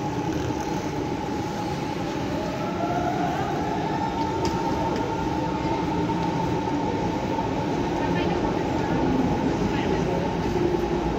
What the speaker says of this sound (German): Gleis 12, Einfahrt RE 2 nach Cottbus über Königs Wusterhausen.